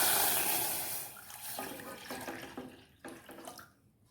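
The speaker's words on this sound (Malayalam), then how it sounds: "ഇതിലേക്ക് 3 കപ്പ് പാലൊഴിച്ച് കൊടുക്കുക" Milk poured from a cup into a pan on the stove, a continuous liquid splash that fades and turns into lighter trickles and drips near the end, close up with no talking.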